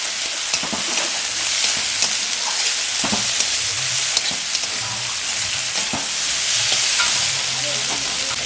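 Potatoes fry in a pan with salt and turmeric for flattened-rice pulao, a loud, steady sizzle broken by repeated scraping clicks of a spoon stirring, close up and without voices.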